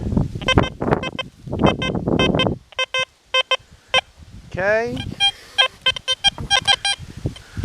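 Electronic tones from Manticore and Deus 2 metal detectors sweeping a bunch of wire with a gold ring sound in short repeated bursts, some steady beeps and one warbling rising tone, with wind noise and a brief spoken word early on.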